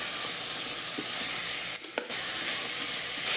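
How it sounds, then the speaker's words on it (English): Onions, garlic, ginger and green chilies with whole spices sizzle steadily in oil in an Instant Pot Duo Mini, a continuous close frying hiss with a faint stir or two and no talk. "Saute until golden brown."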